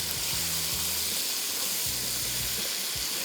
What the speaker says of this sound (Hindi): चिकन को थोड़ा सा फ्राई कर रहे हैं